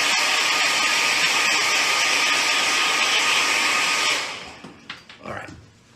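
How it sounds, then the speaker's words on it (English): A blow dryer roars loud and steady for about four seconds while drying paint on an acrylic piece, then cuts off, leaving faint handling noises. "Hit this with a blow dryer again"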